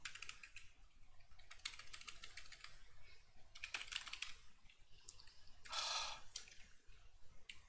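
Quiet, steady typing on a computer keyboard, with bursts of key clicks and short pauses, close by and with no talking.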